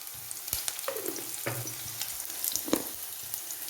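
Cumin, ginger and garlic sizzle steadily in a hot frying pan, with a few sharper crackles and pops standing out over the continuous frying hiss.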